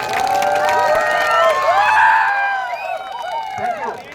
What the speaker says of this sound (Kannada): ಜೋರಾದ ಒಂದು ಚಪ್ಪಾಳೆ ತಮ್ಗೆಲ್ಲರಿಗೂ ಸಹ